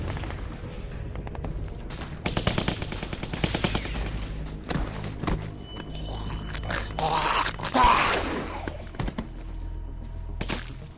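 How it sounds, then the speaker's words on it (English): Rapid bursts of machine gun fire in The Walking Dead video game, several rattling volleys over about ten seconds mixed with scattered thuds, mid-distance and moderately loud, with no talk over them. "That sounds like a machine gun."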